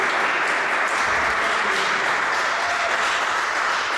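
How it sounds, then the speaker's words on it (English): Audience applause at a CleveSec security meetup hosted by Secure State: a loud, dense, continuous wash of clapping that stays even from start to finish. "Let's get a quick round of applause for Secure State for hosting this."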